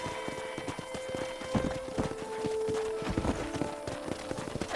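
Horse hooves clop in a steady walking rhythm on hard ground in a corral in Red Dead Redemption, close and distinct, over a faint background hum.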